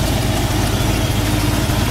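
The original 289 two-barrel V8 of a 1968 Ford Mustang idles close up in a steady, loud, even rumble, running alone without any voices.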